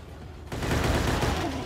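Rapid bursts of gunfire from a shooter video game played on a Nexus 7 tablet at a keynote stage demo, beginning abruptly after a short lull and continuing as a loud, dense fusillade.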